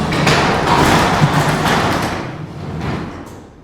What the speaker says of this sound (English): Once it's released, you can now open the door to get your vehicle out.